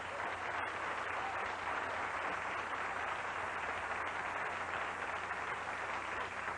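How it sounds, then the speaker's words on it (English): A television talk show studio audience applauds in a steady, even patter of many hands. The clapping continues across the whole stretch, heard somewhat faint and distant. "Yeah, you can applaud."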